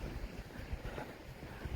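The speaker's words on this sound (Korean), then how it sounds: "바람이 선선하게 불고" Steady wind blowing outdoors on a mild early-spring morning walk, a soft, continuous rush with low gusty rumbles against the microphone and no talking.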